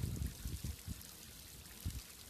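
Running water flows and splashes steadily outdoors, a close, continuous rushing stream with irregular low gurgles and surges throughout, no voices.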